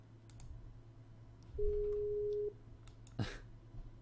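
An outgoing phone call rings unanswered: a single steady ringback tone lasts just under a second, over faint room hum with scattered light keyboard clicks and a brief thump afterward.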